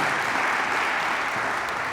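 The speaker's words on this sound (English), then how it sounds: "Give all of our students a big round of applause" Steady, dense applause from a crowd honoring students at a school district student administration day, continuous and even throughout without pauses.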